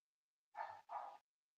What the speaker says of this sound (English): that's my next door neighbor's dog barking